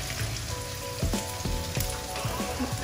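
Chopped carrots and chilies frying in a hot pan make a steady close crackling sizzle, with a few soft clatters of vegetables dropping in and settling.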